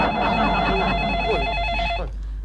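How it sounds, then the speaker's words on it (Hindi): An office telephone rings with a bright electronic trill held for about two seconds, then cuts off, leaving low room hum. "चौमन का फोन है क्या?"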